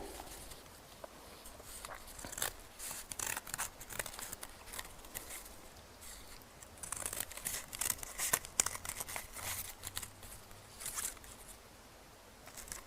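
Paper being cut into small strips with scissors and handled during a toddler craft session, with repeated soft snips, crinkles and rustles close by throughout, and no talk over it.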